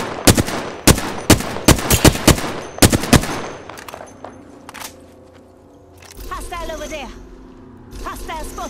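Gunfire in the Apex Legends battle royale game: a loud close burst of about a dozen sharp shots in a rapid, uneven rhythm, then quieter distant pops as a voice speaks over the game sounds.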